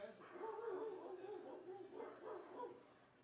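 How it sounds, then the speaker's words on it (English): Dogs bark and yip intermittently at a baseball stadium, in short bursts with broadband crowd noise behind them. "And the dogs have come out and started barking."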